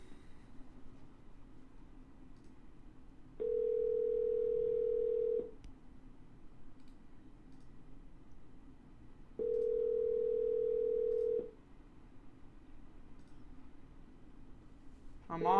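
A telephone dial tone sounds twice while double dialing, each steady tone lasting about two seconds with a pause between, over a quiet room hum.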